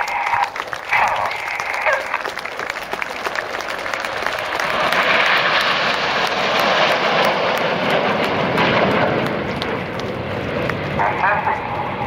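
Crowd applause at the Royal International Air Tattoo 2014 as the Red Arrows display team, celebrating 50 display seasons, shows its Phoenix formation, with steady clapping blended with continuous aircraft engine roar overhead.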